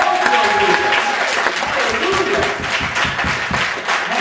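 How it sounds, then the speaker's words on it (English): A church congregation applauds praise dancers, a loud sustained burst of clapping filling the room, with voices calling out beneath it. "you just give your praise dancers a hand clap"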